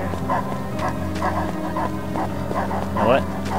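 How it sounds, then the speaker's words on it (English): Several dogs in the video game Fragile Dreams barking and yipping in short irregular bursts over a low droning game soundtrack, with a whining cry near the end. "There's several dogs here."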